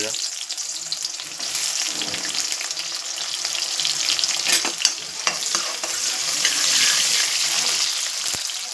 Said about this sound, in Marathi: तेल गरम होत आहे तर प्रथमतः आपण कांदा टाकून